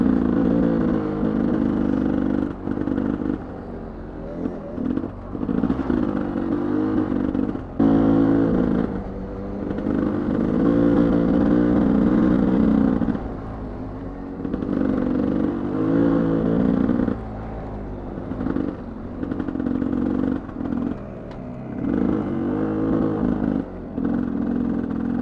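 A dirt bike engine idles steadily near the microphone, a rough mid-pitched drone that dips and surges unevenly with brief drops, running alone without talk.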